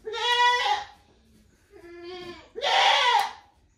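A goat bleats loudly three times, close by, while its hooves are being trimmed, with the calls wavering and separated by short pauses.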